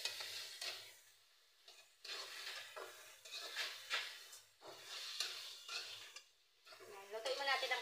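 Ingredients are sautéed in a pan, with repeated scraping and clanking of a utensil against the pan and soft sizzling coming in intermittent bursts, while a voice speaks quietly between the strokes.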